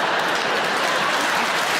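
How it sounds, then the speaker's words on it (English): A stand-up comedy audience claps loudly and steadily, a dense wash of applause filling the short moment with no voice over it. "Not now, don't start clapping."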